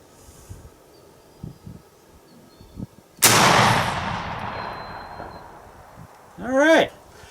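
An 1841 Mississippi rifle fired at 100 yards outdoors, one loud booming shot with a long rolling echo, preceded by soft handling noises and followed by a brief voice.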